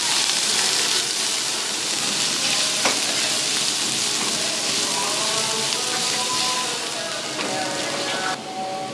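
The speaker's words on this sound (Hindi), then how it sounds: "आगे बारीक चॉप किए हुए प्याज इसके अंदर शामिल कर देंगे।" Finely chopped onions fry with minced beef in a pan, giving a dense, steady sizzle with faint crackles and occasional stirring scrapes throughout.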